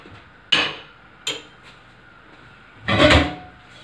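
A metal lid lands on a biryani cooking pot with two sharp clanks, then a longer rattling scrape as the lid settles into place, all close and clear in a quiet kitchen.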